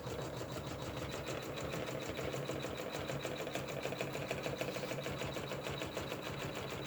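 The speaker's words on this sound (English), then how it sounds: "This will stitch the placement area for the first and second strips." Embroidery-style sewing machine stitching the placement rectangle for mug rug strips, a fast steady mechanical chatter of the needle running continuously close up, no talking.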